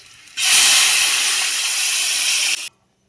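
Water poured into a hot pan of sautéed potatoes sets off a sudden loud steam hiss that holds for about two seconds and then cuts off abruptly.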